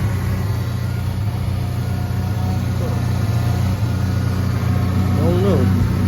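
A Ford Ranger with a failed water pump idles with its radiator fan running, giving a steady close mechanical hum and whir throughout, with no pause in the drone.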